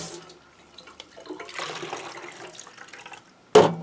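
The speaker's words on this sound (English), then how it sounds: "My dye one usually gets rinsed just because I'm done mixing dye, I rinse it off" Running water rinses out a plastic container used for mixing Procion tie-dye, a soft splashing wash that ends in a sudden loud gush near the end.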